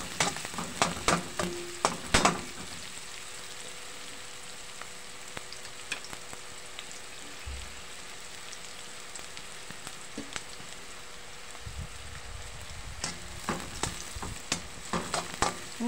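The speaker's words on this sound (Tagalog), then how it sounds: "Halo-haloin lang po natin ng konti guys" Sliced onions fry with a steady crackling sizzle while a spatula stirs them, and clusters of sharp scrapes and knocks come near the start and again near the end; no one speaks.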